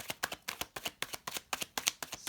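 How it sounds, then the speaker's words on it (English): A deck of tarot cards is riffle-shuffled close by, a quick run of about a dozen crisp papery flutters in steady rhythm, with no talk. "okay, last shuffle."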